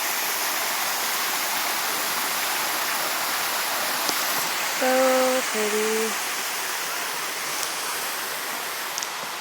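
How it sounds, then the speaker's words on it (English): A tropical rainforest waterfall in El Yunque roars as a steady, broadband rush, with a voice speaking briefly over the water partway through. "Rainforest waterfalls."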